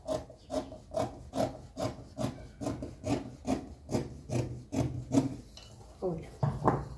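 Scissors cutting fabric for a child's pinafore dress in about fifteen evenly spaced rasping strokes, close and fairly loud, with a slight rustle of cloth between cuts.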